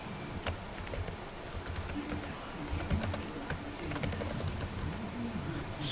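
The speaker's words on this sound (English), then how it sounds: "You have to type in the description." Steady typing on a computer keyboard while entering a job description, quiet, close key clicks in an irregular rhythm with soft background noise.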